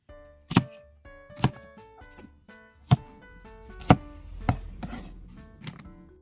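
A knife chops onion on a board in slow, separate strikes, six or seven sharp thuds spaced about a second apart, close up and quiet between hits.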